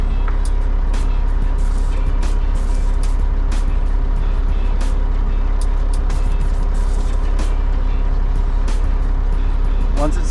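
Concrete mixer truck idling with a steady low diesel rumble while discharging concrete, constant close engine drone with scattered clanks and faint voices in the background.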